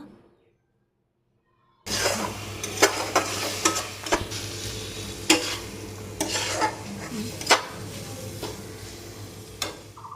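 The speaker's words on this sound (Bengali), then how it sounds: "হাফ চামচ গরম মশলা গুঁড়ো আর হলুদ গুঁড়ো এবার এটাকে ভালোভাবে কষিয়ে নেব" Ginger-garlic paste, cumin paste, garam masala and turmeric powder fry in hot oil while a spatula stirs and scrapes the pan, a steady sizzle broken by repeated sharp scraping clicks after a short silent start.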